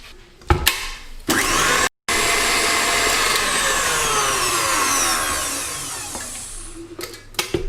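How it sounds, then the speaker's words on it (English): An electric mixer whisks eggs with sugar and butter for a carrot and date cake, giving a loud, close, steady whir with a short break, then slowly fading down before it stops amid a few clatters. "So whisk the eggs with the sugar and butter about 1 minute."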